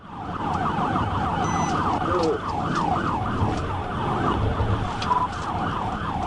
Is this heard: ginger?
no